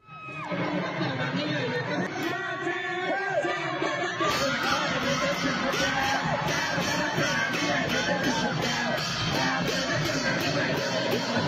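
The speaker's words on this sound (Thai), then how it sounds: "ได้รับเสียงตอบรับจากนักศึกษาเสียงปรบมือลั่นหอประชุม" A large crowd of students in a university auditorium cheers, chatters and claps loudly, the clapping and commotion swelling after a few seconds and continuing steadily throughout.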